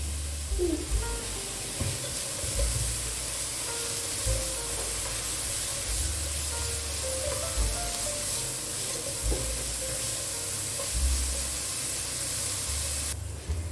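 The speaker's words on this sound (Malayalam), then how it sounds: "ഉള്ളി ഒന്ന് സോഫ്റ്റായിട്ട് വരുന്ന സമയത്ത് നമുക്ക് ഒരു ചെറിയ ക്യാരറ്റ് ചെറുതായി അരിഞ്ഞത് കൂടി ഇട്ടിട്ടൊന്ന് വാട്ടിയെടുക്കാം" Onion and finely chopped carrot sauté in a pan, a steady close sizzle and hiss with occasional stirring knocks and scrapes, no talk.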